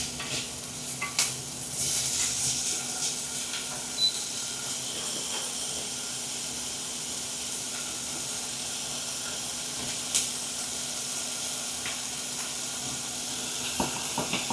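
Poha seasoning frying in a pan, a steady hiss and sizzle with occasional stirring clinks, fairly close and moderate in level, with no talking.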